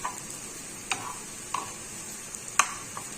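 Large onions sauté in plenty of oil until golden and crisp for potato rice, giving a soft, steady sizzle punctuated by sparse sharp pops and clicks.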